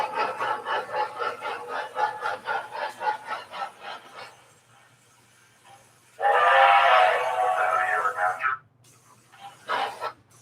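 Lionel model train locomotives run on a track layout, with a sustained horn or whistle blast partway through, alongside voices talking.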